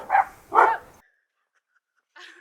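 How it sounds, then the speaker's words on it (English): Two sharp dog barks close together, then silence before a fainter bark or yip at the end. "I just heard other dogs over there"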